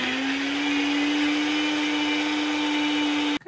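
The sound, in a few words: blender mixing milk and Oreo ice cream cake into milkshake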